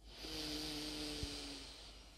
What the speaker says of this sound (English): like I just heard my nose breathing then